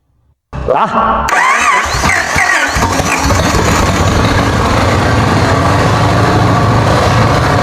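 A newly rebuilt 1946 Plymouth P15 engine cranks and catches after a brief silence, then settles into a loud, steady rumble that continues to the end.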